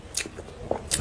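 Soft cream cake is bitten and chewed close to the mic, giving a few quiet, moist crunches and smacks spaced through one second.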